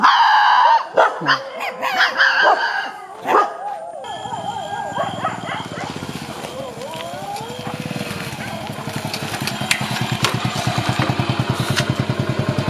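Several dogs bark loudly and repeatedly at close range in a quick burst, then a steady motorcycle engine drone takes over as the barking fades.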